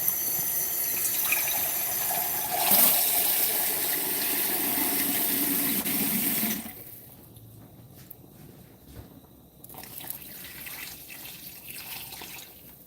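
Water runs from a tap into a low kitchen sink while cottage cheese is being made, a steady close splashing hiss for several seconds that cuts off, followed by quieter handling sounds and faint drips.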